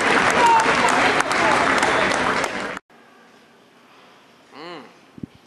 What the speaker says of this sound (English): let's give these students and teachers a round of applause for their impact on our kids.